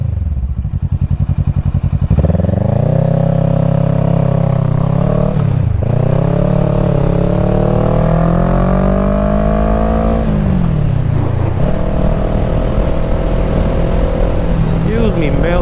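A Kawasaki Ninja 650 motorcycle revs hard and close, its engine note climbing and falling through several pulls over a steady running rumble, with brief voices in the background.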